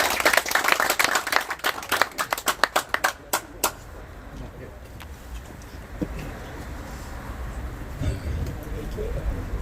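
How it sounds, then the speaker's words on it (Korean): Applause welcoming the director's speech at the opening and signboard unveiling ceremony of the Park Chung-hee Spirit Research Institute, a quick run of sharp, separate hand claps that thin out and stop after a few seconds, then quiet room noise. "큰 박수로 맞이해 주십시오."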